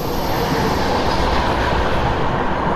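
Himsagar Express passenger train, running from Shri Mata Vaishno Devi Katra to Kanyakumari, rumbles steadily past at close range as a loud, continuous roar of rolling wagons and wheels with no pause throughout.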